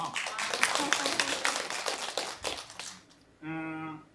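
At a brain-education symposium, the audience claps for their association's president on her appointment as a special professor; a brisk burst of clapping fades after about three seconds, then a voice begins speaking.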